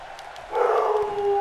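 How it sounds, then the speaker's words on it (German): A pet dog worked up indoors, giving a rising whining howl that settles into a sustained tone after a few soft yips, heard alone and moderately close. "mein Hund dreht gerade vollkommen durch"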